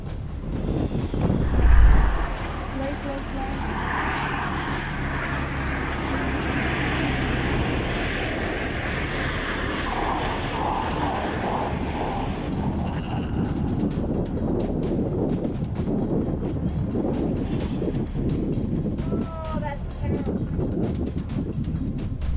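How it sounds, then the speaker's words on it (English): A big airplane passes with a broad, sustained roar that swells and fades over some twenty seconds, heard through wind buffeting on the microphone while people talk nearby. "Here's the big plane going, hon."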